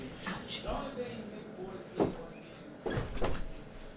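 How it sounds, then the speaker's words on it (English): A room door being closed at home, a few knocks and thuds with a solid bang near the middle and more clatter later, mixed with talking. "Hold on, I gotta close my door."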